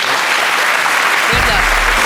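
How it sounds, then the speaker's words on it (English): A live audience at the Piece Hall gives loud, sustained applause during a ghost-hunting television broadcast, a thick continuous roar of clapping, with a low hum or rumble entering partway through. "A big round of applause, ladies and gents."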